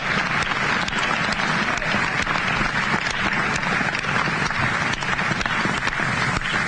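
An election night crowd applauds a Pennsylvania Attorney General's victory speech in 2010 with steady, dense clapping that holds at an even, fairly loud level throughout, with no pauses.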